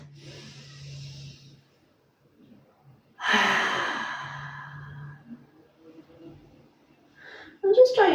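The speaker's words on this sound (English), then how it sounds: "you could try inhaling through the nose, exhaling through the mouth" Slow, deep yoga breaths drawn in through the nose and let out through the mouth, a long audible airy exhale close by, with quiet breaths and faint voice around it.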